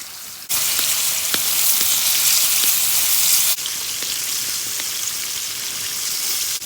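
Fish sizzling loudly in hot oil over a campfire at a campsite, a steady dense crackle that runs throughout, briefly softening midway, with occasional sharp pops.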